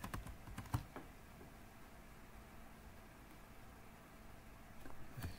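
Keystrokes on a computer keyboard while editing a sudo command for Docker volume binding, with a few sharp isolated clicks over a quiet hiss, a pause, then more taps near the end.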